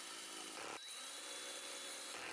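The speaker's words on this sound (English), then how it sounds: "I used a right-angle drill attachment to drive the pocket hole screws" A right-angle drill attachment drives pocket hole screws into a wooden shelf, a close, steady whirring drill run with a brief pause partway before the motor spins up again.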